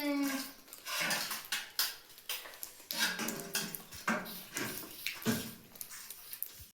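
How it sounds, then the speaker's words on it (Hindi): Pots and a wok (kadhai) being scrubbed and rinsed under running water, with close, irregular clanks and scrapes of metal cookware against a steady wash of water. "बाकी के बर्तन हमने मांझ के उस तरफ धर देते, गिर रहा है पानी यही से रख दे उस तरफ।"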